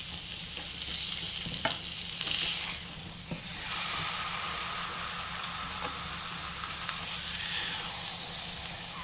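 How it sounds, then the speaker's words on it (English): A venison haunch sears in a pan with butter and herbs, giving a loud, steady, close sizzle that runs unbroken the whole time, with no talking. "when you've done at least half of the searing, just get a good knob of butter in there"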